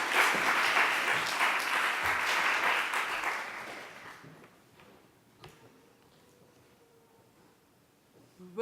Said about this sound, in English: Please give a big applause to our next guest, Michael Bazyler.